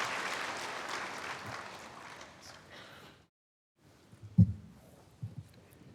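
A church congregation applauds to welcome a man coming forward to give his testimony before a baptism, a dense, fairly loud clapping wash that fades over three seconds and cuts out, followed by faint rustles and a few knocks.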